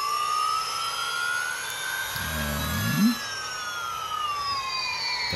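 Jaguar Formula E electric race car on the New York City street circuit, a high whining electric motor tone sweeping across with a brief low swoosh as it passes close by.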